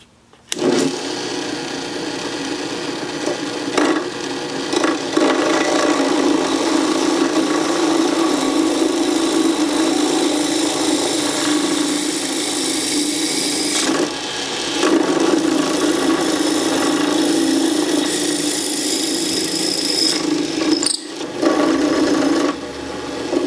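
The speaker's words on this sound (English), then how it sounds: "Here I'm going to drill out some holes for the pencils" Power drill boring angled holes into a wooden block for pencils, a continuous close whirring grind that runs in long stretches with a few brief pauses between holes.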